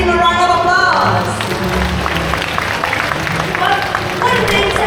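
An audience at a bird-of-prey show at Bird Paradise breaks into applause, a steady wash of clapping mixed with crowd noise and a voice speaking over it near the start.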